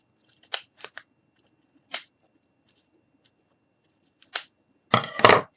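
Scissors snip through a piece of craft material for a boots ornament: a few crisp, close cuts spaced out over several seconds, then a longer rustling crunch at the end, with no talk.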